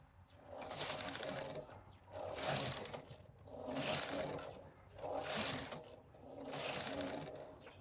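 A knitting machine carriage is swept back and forth to knit rows of a lace pattern, making five evenly spaced, rushing mechanical passes, each rising and fading, close and clear with no talk.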